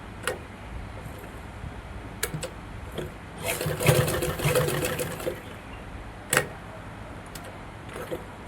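A sewing machine stitches a cross piece onto a blouse neckline in one short burst of running in the middle, framed by ticks and clicks from handling the fabric.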